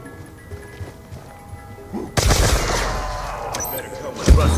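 Blundergat gunfire in a Call of Duty Zombies match on the Buried map: a quiet lull breaks into a sudden loud burst of blasts, then another sharp shot near the end.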